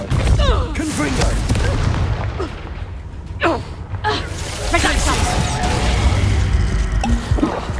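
A Confringo blasting spell explodes in Hogwarts Legacy amid several booming crashes and bursts that stay loud throughout, with voices and effects mixed in.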